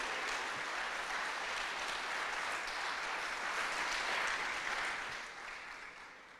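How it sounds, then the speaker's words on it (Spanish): Dense, steady applause from a church congregation giving thanks to God, loud and sustained for several seconds before easing slightly near the end. "dale un aplauso grande a Dios"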